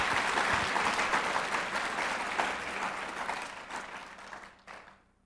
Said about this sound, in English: a big clap, a big applause for that lady who sang the national anthem